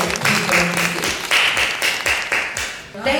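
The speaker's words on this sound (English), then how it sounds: "Please give a round of applause." Audience applause rings out as a company founder is called up to the stage at an event, steady clapping over about three seconds with a faint voice underneath.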